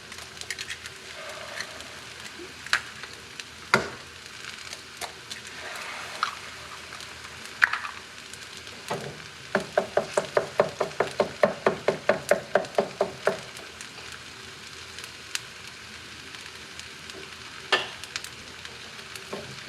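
Eggs sizzle in a pan for fried rice while a utensil stirs and scrapes, with a run of quick rhythmic taps midway over the steady frying hiss.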